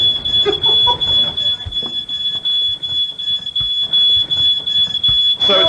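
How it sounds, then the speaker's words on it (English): A smoke alarm sounds a steady, piercing high beep that runs unbroken through the whole stretch, loud and close, with scattered faint voices and studio noise beneath it. "The smoke alarm going off?"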